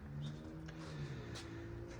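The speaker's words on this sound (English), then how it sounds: "We're gonna fire it up real quick." A worn, freshly serviced Traxxas T-Maxx nitro RC truck engine runs with a steady, close buzzing drone that holds level throughout without a clear rev.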